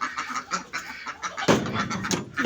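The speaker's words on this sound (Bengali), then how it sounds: "এই যে দেখেন হাঁস।" Domestic ducks quack in short, nasal bursts around a village home, several calls overlapping at close range with no talk.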